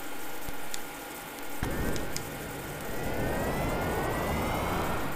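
A jet roars as it takes off from an aircraft carrier in a Commodore 64 game, a synthesized rushing engine noise that surges after a brief dip and holds steady with a rising whine, and no talking.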